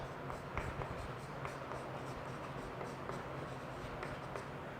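Writing on a board during a physics lesson, a steady close scratching and tapping of strokes over a noisy room background, with no clear talking.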